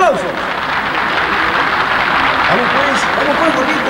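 Crowd applause for a Peruvian band erupts after an emcee's introduction, with steady clapping under loud overlapping voices and shouts throughout.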